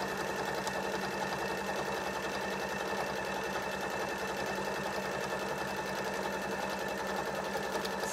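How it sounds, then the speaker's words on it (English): A sewing machine runs steadily for about eight seconds, top stitching around the edge of a fabric bow band in a continuous, even whir with no pauses. "So I'm just going to top stitch all the way around the outside."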